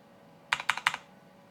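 Three quick bursts of keystrokes on a computer keyboard with unusually tall keys, close and crisp, each burst a short cluster of clicks, alone over a quiet background.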